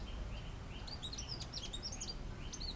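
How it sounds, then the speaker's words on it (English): A purple-rumped sunbird in a Sri Lankan home garden in the evening gives quick, high, thin chirps in scattered bursts, fairly faint over a low steady background hum. "let's say bye-bye to this purple-rumped sunbird"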